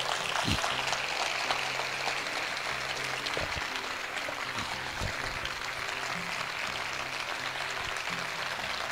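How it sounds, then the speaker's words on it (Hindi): A church congregation applauds together, a steady, moderately distant wash of clapping that holds evenly throughout with a few sharper claps near the front. "आइए हम सब मिलकर अपने प्रभु के लिए एक अच्छी ताली बजाएंगे"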